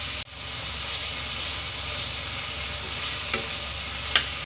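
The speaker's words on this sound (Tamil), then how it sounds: "ஸோ இது எல்லாத்தையுமே போட்டு நல்லா இப்போ ஒரு வதக்கிடலாம்" Potatoes and vegetables for a stew sauté in a pan, with a steady close sizzle of frying throughout and a couple of faint clinks from stirring.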